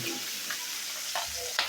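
River puti fish fry in a pan, making a loud, continuous, close sizzle with a few brief spatters and a scrape near the end.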